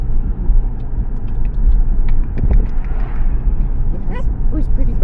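Low rumble of a car driving, steady road and engine noise throughout with a voice talking over it and a bird's chirps toward the end.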